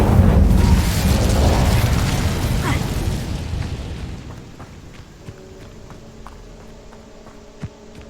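Fiery blast of the Incendio spell in Hogwarts Legacy, a loud roaring burst that dies down over a few seconds into quiet with faint scattered clicks and a soft tonal hum.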